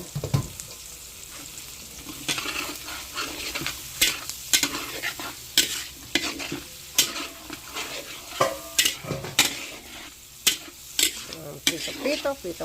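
Squid balls sizzle in hot oil while a utensil repeatedly scrapes and knocks against the pan in irregular bursts, close and fairly loud.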